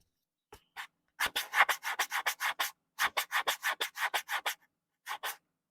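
A hand rubs back and forth across the textured material of a boAt Aavante Bar 1850D soundbar, making close, rapid scratchy strokes in two long rhythmic runs and a short final pair, with no talking.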